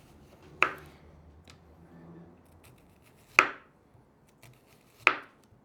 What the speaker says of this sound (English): We're gonna make really, really thin onion rings.